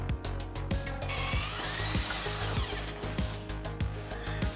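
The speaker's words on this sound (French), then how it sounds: "Pour percer nos trous bien droits, on a réfléchi à ce qu'on pourrait faire et voici comment on l'a imaginé." Power drill boring holes through two wooden boards cut to match the timber frame's metal plates during roof framing repair, with a steady continuous whine and repeated sharp bursts as the bit bites in, loud and close, with no talk.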